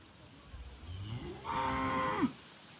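A cow lets out a long, rising moo nearby at a village water trough, starting low and swelling louder before cutting off, with quiet ambient noise around it.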